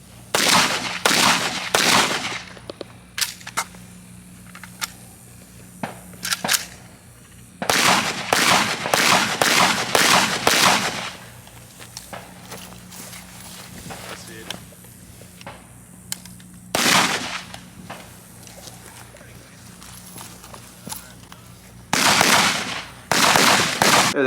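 A Zastava M90 rifle fired at competition targets gives loud, sharp shots in rapid clusters, separated by quieter pauses, with one isolated shot between the later volleys.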